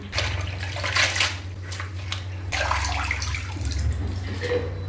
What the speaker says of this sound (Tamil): கொத்தமல்லி தழையை நல்லா தண்ணி போட்டு சுத்தமாக அலாய்ச்சிக்கணும் 2 தடவை.